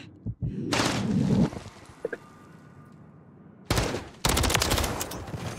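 Bursts of rapid automatic gunfire in a Modern Warfare 3 ranked match, with a short volley early on, a quiet gap with a few isolated thuds, then two loud sustained sprays of fire near the end.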